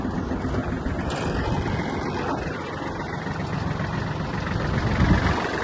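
A Kubota GL-19 Japanese mini tractor runs with its power take-off engaged and fourth gear selected, giving a steady, continuous engine drone with broad rumble that holds level and swells slightly near the end.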